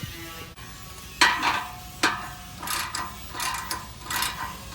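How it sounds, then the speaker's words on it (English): A hand ratchet tightens an exhaust clamp on a Borla axle-back on a ninth-generation Honda Accord V6 coupe, giving several separate bursts of close, dry clicking with short pauses between them. "So just tighten that down, and you are good to go."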